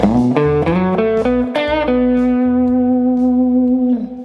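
A distorted electric guitar plays a blues rock lick, a few quick bent and slid notes settling into a long sustained note.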